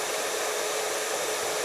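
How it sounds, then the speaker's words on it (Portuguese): A hair dryer runs with a constant, loud airy whir and hiss, unchanging and uninterrupted from start to finish. "Esse é o som do secador de cabelo."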